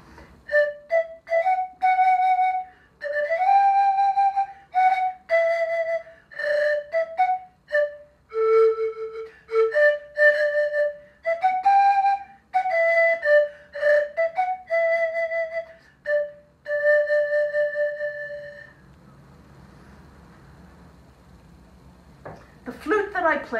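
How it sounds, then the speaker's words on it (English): Pan flute of the kind played in the Broadway show The Lion King, sounding breathy, whistle-like phrases with slides between notes, close and clear, then trailing into quiet air noise. "I play actually one of these pan flutes in the Broadway show The Lion King."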